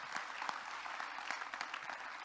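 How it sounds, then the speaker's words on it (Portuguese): Faint, distant applause from a church gathering during a leadership class, a steady wash of clapping with a few sharper claps standing out. "Vamos aplaudir o Senhor"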